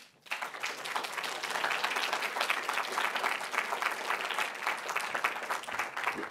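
Sustained audience applause welcoming artist Donald Teskey at a gallery talk, steady dense clapping from a crowd for about six seconds, full and close, fading slightly at the end.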